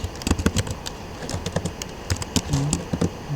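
Quick, irregular clatter of keys as a command is typed on a computer keyboard in a Kali Linux terminal, close and crisp with brief pauses.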